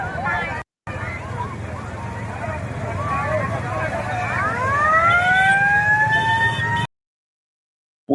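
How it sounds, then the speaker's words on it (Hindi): A police siren wails and rises over a noisy crowd murmuring in a street in Bengal, growing louder before cutting off abruptly. "पुलिस की गाड़ी वहां घूम रही है,"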